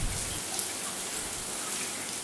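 Close, steady hiss of water spraying from a pump-fed camp shower head in the Namibian desert while soap is rinsed off, a continuous even stream with no pauses and no voices.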